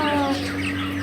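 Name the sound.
live chickens clucking at a market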